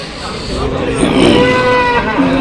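A Jersey cow moos once, a long low call close by, over faint background noise at a livestock market.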